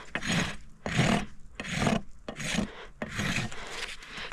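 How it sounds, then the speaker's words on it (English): A farrier's rasp files the bevel of a horse's hoof wall in five or six long, loud, gritty strokes, each a harsh rasping sweep separated by short pauses, heard close and without talk. "I'm going to come around, smooth my bevel out with the rasp"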